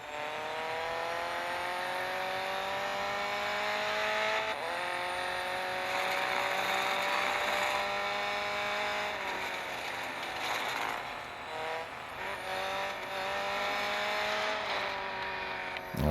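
Alfa Romeo 4C Competizione in a racing video game, its engine note climbing and dropping through repeated gear shifts, steady and loud throughout with no talking.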